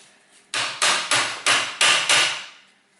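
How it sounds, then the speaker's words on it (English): Six sharp, evenly spaced hammer blows ring out loud and close on a metal part of a Toyota Corolla drive axle, each decaying briefly before the next, then silence. "only hammer this metallic part."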